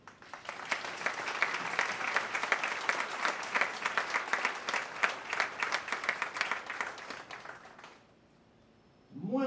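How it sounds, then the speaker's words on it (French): Congress audience in a large hall breaking into sustained applause, a full crowd clapping loudly for about eight seconds before it cuts off, followed by a brief voice. "merci, par un applaudissement"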